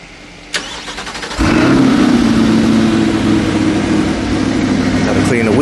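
A Chevrolet Corvette C8 engine fires up with a sharp crank and bark, then holds a loud, steady, deep roar close by for several seconds.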